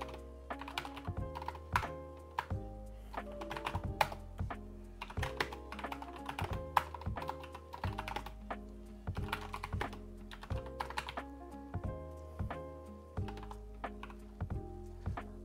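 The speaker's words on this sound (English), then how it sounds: "By typing in sudo apt-get install" Continuous typing on a computer keyboard, quick irregular key clicks with short pauses, close and fairly quiet.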